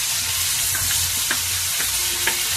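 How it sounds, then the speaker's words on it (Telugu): Onion, ginger and garlic paste fries in oil with a dense, loud sizzle and a few soft stirring scrapes, nearby and uninterrupted. "ఫస్ట్ మనం ఉల్లిపాయ అల్లం వెల్లుల్లి వేసిన పేస్ట్"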